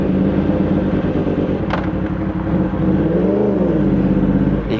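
A 2020 Yamaha R1 sport motorcycle engine runs loudly and close by, idling with a deep throb before a brief rise and fall in pitch from a light rev.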